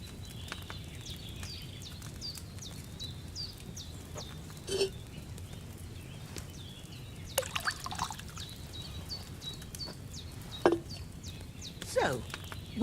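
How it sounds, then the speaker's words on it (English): Wine is poured from a pitcher into an alchemy cauldron in the video game Kingdom Come Deliverance II, a faint trickling pour beneath a steady low ambient hum, with a few brief clinks and knocks scattered across it. "So, what did you pour in there? Wine, of course."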